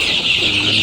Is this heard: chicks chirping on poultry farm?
yes